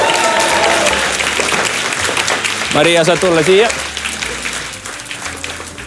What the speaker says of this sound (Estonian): Nüüd teeme suurt lärmi, teeme aplausid.